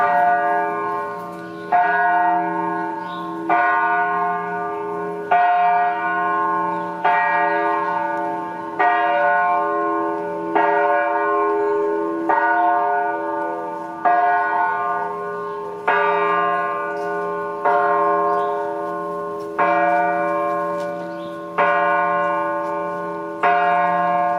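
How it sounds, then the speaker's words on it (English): A church bell in Mazatlan tolls steadily on a calm day, about a dozen evenly spaced strikes, each ringing out and overlapping the next, clear and unaccompanied. "You're going to hear the bell for a minute."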